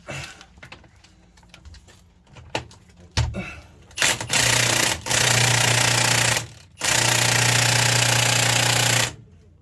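An impact tool hammers in loud sustained bursts at the drain plug on a New Holland B115B backhoe loader axle during a service, with several long rattling runs separated by brief pauses after quieter shop sounds.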